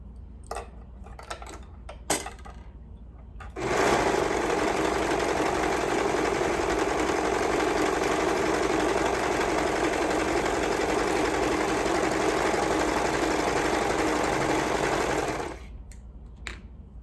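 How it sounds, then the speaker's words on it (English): A sewing machine stitches a half-inch seam allowance on a sew-along garment project, running as a steady, loud, close whir for about twelve seconds after a few small clicks, then stopping. "Once you've sewn your 1/2 inch seam allowance, turn it right side out"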